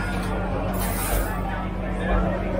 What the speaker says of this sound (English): This is the D1 Decorative DecoCRETE sealer, solvent-based sealer. Gonna just spray it on.